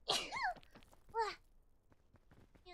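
A sneeze, sharp and close, followed by a second shorter burst a moment later, then quiet with faint shuffling.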